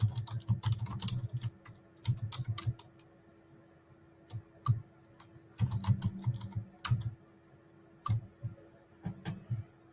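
Typing on a computer keyboard, heard close up as bursts of quick key clicks that come in short runs separated by brief pauses, with no talking.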